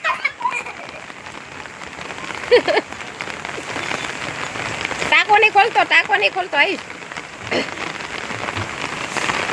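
Steady heavy rain hisses throughout, with people talking over it in bursts and a few louder splashes.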